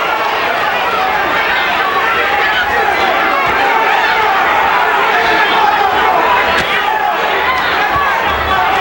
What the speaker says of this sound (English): The crowd at a fever pitch throughout most of this fight